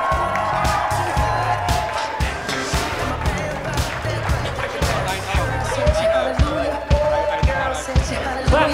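Wedding guests at Solitude Mountain Resort in Utah cheer and whoop for the couple, loud and close, over thumping dance music, with voices talking and shouting throughout.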